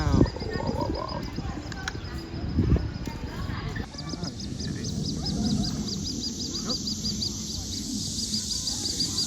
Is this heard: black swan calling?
yes